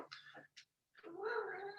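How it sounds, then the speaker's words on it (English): A domestic cat meows in the background: two short cries followed by a longer, drawn-out yowl, fairly faint and alone. "sorry about my cat in the background over there."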